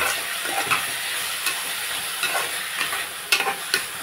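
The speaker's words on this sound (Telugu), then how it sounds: "ఇప్పుడు మనం బాగా కలిపేసుకునేది" Food is stirred and tossed in a hot cooking pan, with a constant close sizzle broken by scraping and clinking strokes of the spoon at an uneven pace; no voices.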